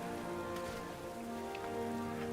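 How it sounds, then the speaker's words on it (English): Steady rain pouring in the Morrowind game world, a soft continuous hiss of drops on surfaces with a low background hum, quiet and unbroken with no voices. "It's raining"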